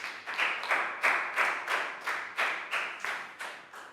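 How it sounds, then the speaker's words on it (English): Brief applause for a young student in a primary school maths class, a small group clapping in steady repeated bursts, fairly close and moderately loud, with no talk over it. "Big round of applause for Pat."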